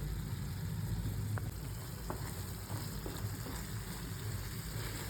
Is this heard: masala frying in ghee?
yes